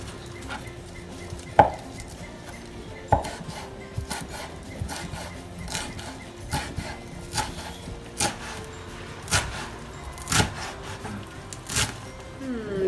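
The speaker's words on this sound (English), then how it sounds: "now I've got my parsley that I'm going to chop. Chop, chop, chop." Fresh parsley chopped with a knife on a board, a run of sharp irregular thuds and taps, close and clear with no talking.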